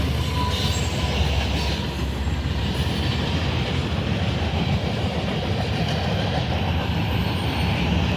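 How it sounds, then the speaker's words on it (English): A long CSX freight train rolls past close by in a continuous loud roar of wheels and rail cars, with faint squealing and clacking throughout. "And then here comes another engine."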